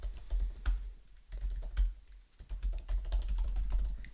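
Typing on a computer keyboard: quick, uneven runs of close key clicks with short pauses between bursts, heard alone.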